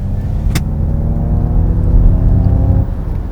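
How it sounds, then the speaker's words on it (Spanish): A simulated gasoline engine sound plays through the speakers of a Ford Mustang Mach-E electric car as a steady, loud, low rumbling hum that swells slightly, with one sharp click near the start. "si la pulsamos genera un sonido de motor de gasolina, eso sí, por los altavoces"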